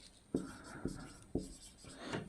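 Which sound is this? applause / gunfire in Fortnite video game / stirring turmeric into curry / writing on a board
writing on a board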